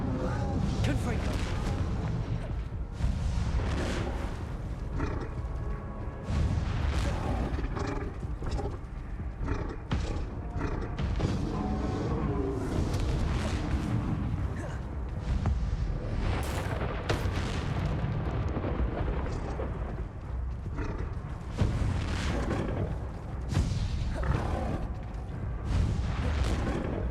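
Confringo spell blasts in Hogwarts Legacy, a string of loud fiery bursts and booms over a busy battle din, with voices talking throughout.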